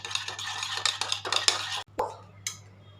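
Eggs beaten by hand in a bowl for a traditional Nagore sugar-free dum root, with rapid, rhythmic clinking of a utensil against the bowl, close and clear, briefly pausing before resuming.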